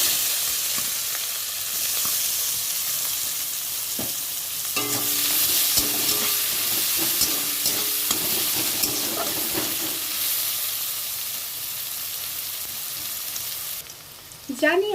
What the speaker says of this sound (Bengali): দুটো তেজপাতা, দুটো শুকনো লঙ্কা দিয়ে দিলাম ফোড়নে। এবার পেঁয়াজ কুচিটা দিয়ে দেব।